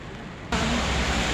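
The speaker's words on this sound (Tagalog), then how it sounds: "Grabe guys, umuulan oh." Rain suddenly swells into a steady, dense hiss that fills the space after a brief quieter moment, continuing evenly and close with no voices.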